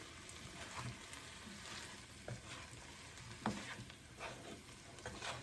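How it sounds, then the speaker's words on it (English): A spoon stirs dry mango powder into a dish of karela in a pan, producing faint, soft scraping strokes over a low sizzle, with a few louder clinks spaced irregularly. "Mix it all nicely."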